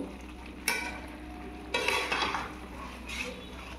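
Spice paste stirred with ghee in a pan for chicken biryani, with a few scraping strokes and soft sizzling, close by and moderate in volume, with no talk.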